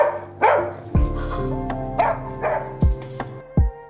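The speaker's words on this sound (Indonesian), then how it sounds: "Dingga yang terus menggonggong seakan ingin keluar mengejar Cholmin." A dog in a film barks repeatedly and close, sharp bow-wow barks in an uneven rhythm with short whimpering yips between them, as if straining to get out and chase someone.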